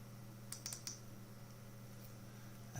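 A few quick keystrokes on a computer keyboard, faint clicks clustered near the start over a steady electrical hum, followed by quiet.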